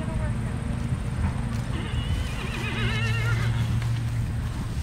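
A horse whinnies with a wavering call amid outdoor noise while hooves shuffle and thud, and people talk over the scene.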